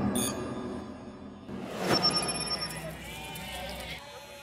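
Goats bleating in Ethiopia, a few short wavering calls near the start and middle over a murmur of background voices and ambient noise.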